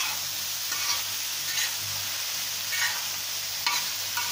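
Pav bhaji vegetables (capsicum, peas, cauliflower and boiled potatoes) being stirred in a pan, a steady sizzle with a few soft scraping strokes of the spoon recurring every second or so, no voices.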